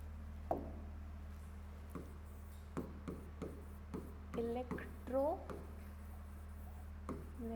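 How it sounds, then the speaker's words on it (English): Handwriting during a chemistry lesson on bond polarity: scattered scratchy strokes and light taps over a steady low room hum, with a few brief voice sounds in between. "Wait, I am writing it properly."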